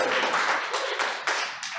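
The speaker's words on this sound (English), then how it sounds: "Come on, let's get it going. Applause." An audience applauds for a speaker at a Ruby programming meetup, a dense steady wash of clapping from many hands that swells in a few bursts and carries on for the whole short stretch.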